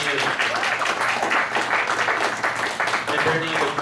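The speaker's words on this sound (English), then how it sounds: "give Brittany a round of applause, guys" Audience at an anime convention game show claps steadily and loudly throughout, a dense crowd applause with voices mixed in.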